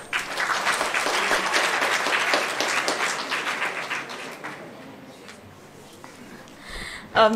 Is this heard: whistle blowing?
no